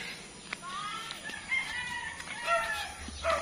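Chickens cluck and a rooster crows in a rural subdivision, several overlapping calls at a moderate distance with some wing flapping and steady outdoor background noise, no one talking.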